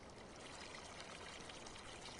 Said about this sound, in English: Where's that water coming from?